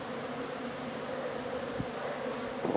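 Honeybees flying around a hive in November sun after a cold October, a continuous steady buzz of many wings at moderate distance, with a few faint bumps and shifts late on.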